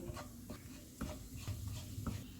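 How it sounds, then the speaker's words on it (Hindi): Soft, quiet sizzle of cumin seeds frying in hot oil in a kitchen, with occasional light scraping as they are stirred. "ऑयल गर्म हो गया, इसमें ज़ीरा डालेंगे। इसको 30 सेकंड तक फ्राई करेंगे।"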